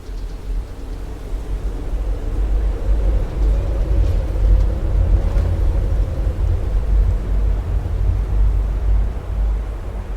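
A tornado's core strikes a storm chasers' vehicle, producing a deep, continuous roaring rumble of violent wind that swells slightly in the middle and stays loud and unbroken.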